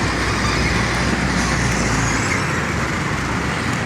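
Street traffic rolls past in Jocotepec, Mexico, as a dense, steady roadway roar with engine rumble and no pauses.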